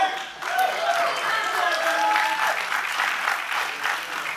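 A church congregation applauds during a Sunday sermon, with steady, dense clapping that fills the room for the whole stretch without fading.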